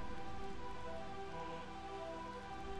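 Steady rain falls in Burmecia, the kingdom of eternal rain in the Final Fantasy IX video game, a continuous soft hiss with a faint tonal hum beneath, quiet and unbroken.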